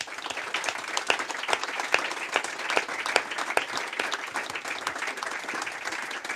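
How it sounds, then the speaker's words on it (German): A seated audience at a book launch gives steady, even applause, with individual claps audible in a continuous patter throughout. "dann haben die Herren da vorne und Damen natürlich einen Applaus verdient"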